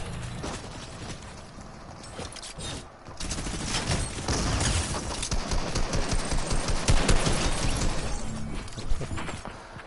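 Fortnite gunfire as a continuous run of rapid shots building in the second half, loud and busy, after a quieter opening of game noise.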